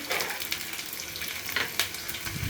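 Sliced onion and curry leaves fry in hot vegetable oil, giving a steady close sizzle with crackling pops and spatters scattered through it.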